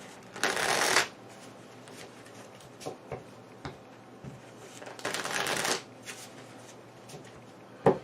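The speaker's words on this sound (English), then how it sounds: "We shuffle again." Playing cards from the board game Onirim are riffle-shuffled twice, each a quick rattling burst under a second long, with quiet pauses and faint clicks in between.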